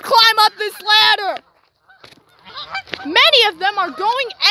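Pet geese honk loudly in close, harsh bursts, several calls in quick succession, then a short lull before another run of honking.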